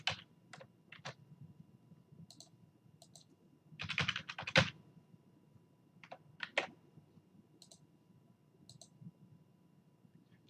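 A new password being typed on a computer keyboard in short bursts of crisp key clicks, with a denser flurry midway and scattered single taps, close and fairly quiet over a low room hum.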